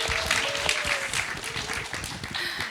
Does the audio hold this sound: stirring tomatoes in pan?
no